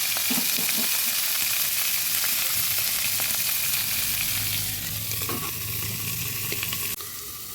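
Oats khichuri frying in a pan and being stirred, with a steady close sizzle and scraping stir strokes that ease slightly toward the end as the pan is covered.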